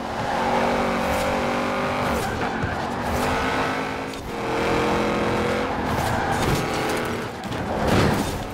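An Audi RS7 races at night in a driving video game, its engine roaring steadily and loudly, with rising revs and gear changes that swell and dip over several seconds.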